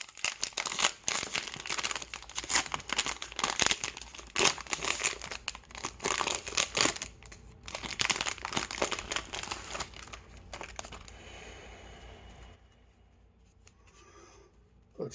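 Foil wrapper of a 2017 football trading card pack crinkles loudly and continuously up close as it is torn and worked open, then the rustling fades into quieter handling near the end.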